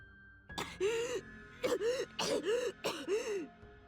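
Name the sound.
video game character coughing and choking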